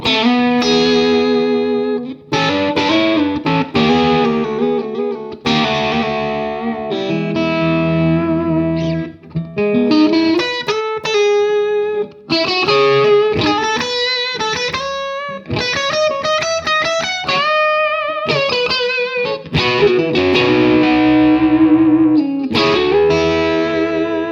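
A 1997 Parker Fly Deluxe electric guitar with its knobs full out and the coil tap engaged, played through effects as a flowing run of chords and single notes, loud and continuous, with no voice.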